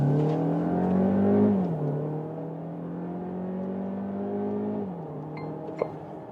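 A VW 1.5 TSI mild hybrid engine in sport mode pulls hard, its steady engine tone rising through the gears with two clear shifts, heard from inside the car with no talking.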